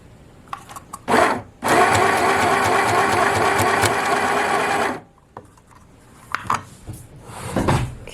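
A compact portable sewing machine stitching cotton fabric runs in one steady, loud mechanical whir for several seconds, preceded and followed by brief clicks and handling knocks.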